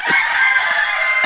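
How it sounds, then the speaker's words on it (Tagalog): A chicken to be slaughtered sounds off nearby, a rooster-like crowing call held steady and loud through the short moment, with a few faint clucks underneath. "Ayan ang kakatayin naming manok mamaya."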